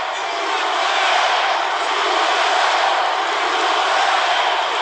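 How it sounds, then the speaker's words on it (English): A big arena crowd at an MMA fight roars steadily behind Poirier, a dense, loud, unbroken wash of voices with no distinct words. "Crowd trying to get behind Poirier"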